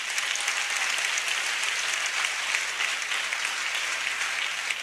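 Steady, full applause from a church congregation at a service, continuous clapping from many people that holds a constant level throughout without any talking.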